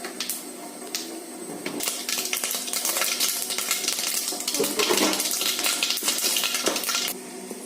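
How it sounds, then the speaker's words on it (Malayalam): Mustard seeds, dried red chillies and curry leaves sizzle and crackle in hot oil, a dense bright spitting hiss with scattered pops and metallic clinks of a pan, steady and close throughout, with no talking. "എണ്ണ ചൂടാവുമ്പോൾ കടു, വറ്റൽമുളക്, കരിവേപ്പില എന്നിവ ഇട്ട് കൊടുക്കാം."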